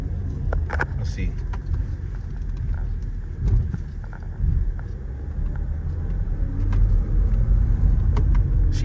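A diesel Porsche Cayenne 958.1 pulling away in first gear, with a low engine rumble and road noise from inside the cabin, plus some small clicks and rattles.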